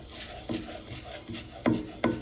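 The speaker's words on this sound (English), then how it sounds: "I keep stirring that on this pretty lowish heat until it starts to stick" Risotto base stirred in a pan over low heat: soft scraping strokes with a few sharper spoon knocks near the end, close and fairly quiet, no talking.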